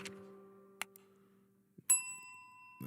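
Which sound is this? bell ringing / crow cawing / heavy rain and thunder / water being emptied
bell ringing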